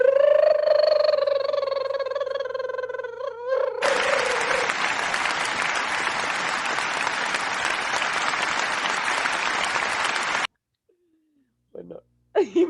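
An audience in a Spanish-language talk show setting breaks into loud, dense clapping after an earlier voice, the applause sustained for several seconds before stopping abruptly, with brief talk afterwards.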